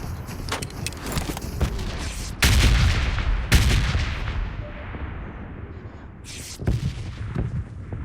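A bomb lands beside a robot in a video game: loud, sharp explosive blasts punctuate an ongoing rumble of game noise, with heavy booms around the middle and another near the end.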